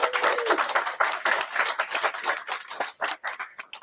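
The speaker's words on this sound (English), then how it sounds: "Let's give a round of applause." Audience applause at a bookstore author event, steady scattered clapping of modest size, fairly quiet and slightly distant, continuing throughout.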